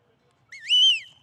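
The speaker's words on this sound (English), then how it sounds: "I'll let you guys know that this whistle" A whistle is blown once as a stop signal for a working dog at a rural games event, a single clear rising then steady tone, loud and close, with no talk over it.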